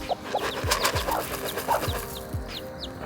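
Chickens clucking and murmuring nearby in short repeated calls over a busy farmyard background, with some soft rustling.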